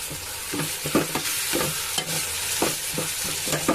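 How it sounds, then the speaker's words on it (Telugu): Ginger, garlic and tomato paste being stirred and fried in a pan for mealmaker curry: a sizzling bed of frying with repeated close scraping strokes of the spoon, alone and fairly loud. "ఇప్పుడు ఇందులో అల్లం, వెల్లుల్లిపాయ, టమాటా కలిపి చేసిన పేస్ట్ వేసాయని ఇది కూడా ఒకసారి బాగా కలుపుకోవాలి"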